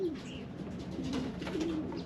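Racing pigeons coo softly inside a pigeon loft in Moorpark, California, with a few low throaty calls over a steady ambient hiss.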